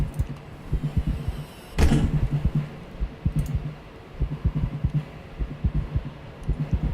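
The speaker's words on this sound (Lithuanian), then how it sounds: "tavo veikėjo širdis plaka." A character's heartbeat in the horror video game From the Darkness thumps as steady, low, muffled double beats repeating throughout, with one louder thud near the start and no talking.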